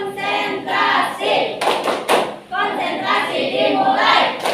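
Classroom of children doing the concentration clap (tepuk konsentrasi), rhythmic group clapping in short patterned bursts mixed with voices chanting along, close and fairly loud.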